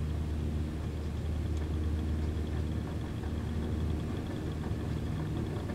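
A simulated aircraft engine at full power during a takeoff roll in Microsoft Flight Simulator produces a constant, low rumbling drone at moderate volume with no let-up.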